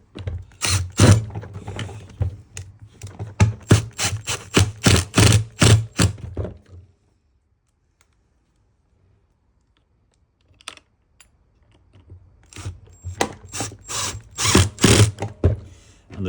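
Screwdriver driving four screws back into a Greenworks Optimow robotic mower during jockey wheel replacement, giving rapid clicking ratchet-like bursts close by, a quiet pause midway, then another run of clicks.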